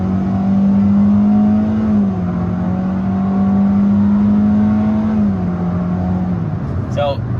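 A 2023 Hyundai Venue engine drones loudly at full throttle in Sport mode, one steady sustained rev with pitch holding then dipping slightly, heard from inside the cabin until it eases off near the end.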